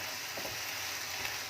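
Chicken and onions browning in a pan for chicken masala macaroni, a dense continuous sizzle with a faint stirring scrape underneath, close and steady for a brief moment.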